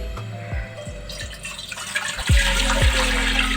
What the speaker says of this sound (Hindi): एक बड़ी देगची लेनी है और उसमें हम ऐड करेंगे 6 गिलास पानी।